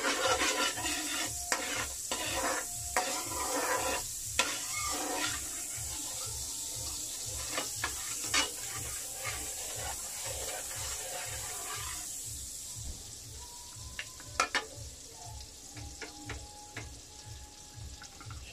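Chicken steak sautés in butter with a little oil in a pan, a steady sizzle under quick, rhythmic stirring strokes that scrape along close by. The stirring eases off in the later seconds.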